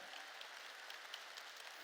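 A church congregation applauding together, a soft, steady wash of many hands clapping that stays even and fairly distant throughout, with no voices over it.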